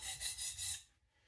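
A knife blade is rubbed dry across an Atoma diamond plate in about four quick rasping strokes, close and fairly quiet, before fading to near silence.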